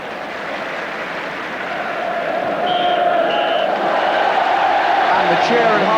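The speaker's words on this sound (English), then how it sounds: "The cheer at half-time from the Stamford Bridge crowd reflects a fine 45 minutes by Chelsea." The Stamford Bridge crowd at a Chelsea versus Newcastle United football match, a broad roar of cheering at half-time that builds steadily and holds, with faint whistles over the top.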